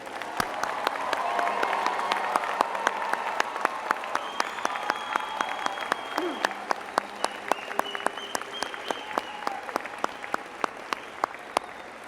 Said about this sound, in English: I ask your friends and family to join me in applauding the graduating class of 2007.